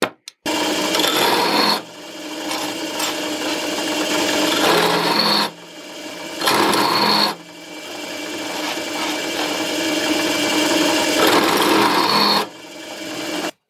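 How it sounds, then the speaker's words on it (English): Hand deburring of metal counterweight pieces for a book-scanner build, heard as a steady close rasping scrape in three long bursts with short pauses between them and no talk. "let's deburr them and then let's see whether they fit even better."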